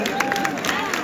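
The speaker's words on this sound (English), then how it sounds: "Please, guys, keep the applause going." Crowd applause after a directors' Q&A panel, steady dense clapping with scattered cheers filling the room throughout.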